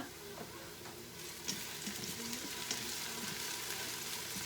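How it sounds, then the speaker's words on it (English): Onions browning in an Instant Pot give a steady close sizzle and crackle, with faint stirring scrapes running throughout. "So these onions are just getting good and brown."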